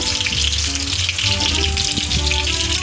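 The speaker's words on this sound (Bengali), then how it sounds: "সোয়াবিন আমার ভাজা চলছে" Soybean chunks fry in oil with a loud, dense, unbroken sizzle close up, brief bubbling pops scattered through it.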